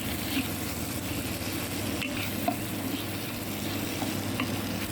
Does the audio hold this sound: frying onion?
yes